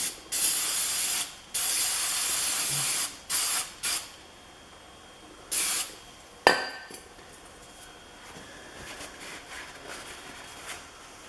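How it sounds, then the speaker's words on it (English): A can of brake cleaner sprays in about five short hissing bursts, close and loud, cleaning the hydrostatic transmission strainer of a Kubota BX23S tractor, followed by a sharp metallic clatter and then a quiet background. "So I just got a can of brake cleaner here."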